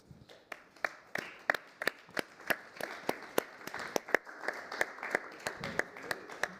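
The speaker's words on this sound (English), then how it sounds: "A round of applause for her." Sparse, rhythmic clapping from a small group at a conference town hall session, individual claps sharp and regular, with faint voices underneath.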